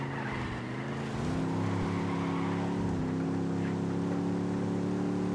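A car engine in the video game Ghost Recon Wildlands strains uphill, a loud, steady droning growl whose pitch dips and climbs as it labours, with no voices.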